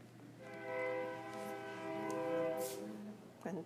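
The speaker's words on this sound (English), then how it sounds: "And there's the train." A toy train horn sounds a sustained, harmonically rich tone for about three seconds, faint and somewhat distant, ending with a short click-like noise.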